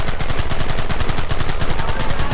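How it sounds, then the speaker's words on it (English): Rapid, loud gunfire in the Red Dead Redemption video game, a dense volley of overlapping shots crackling in quick rhythm throughout, with no talk over it. "Open fire!"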